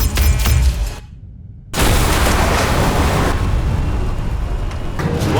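A weapon system firing in the film Starship Troopers: Traitor of Mars, with loud explosive booms and crackling blasts, a brief silent gap, then sustained roaring bursts of fire.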